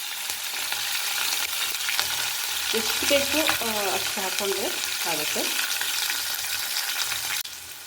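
Green chillies fry and sizzle in oil in a tempering of mustard seeds and cumin, with a steady hiss, close and clear, and a few stirring scrapes while someone speaks briefly over it.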